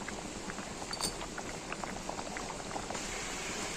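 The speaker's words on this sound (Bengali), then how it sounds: "ডালটা ফুটে গেছে, এবার আমি নামাবো" Dal with jackfruit seeds bubbles in a pot, a continuous low simmer of popping bubbles and soft plops, close but quiet and steady throughout.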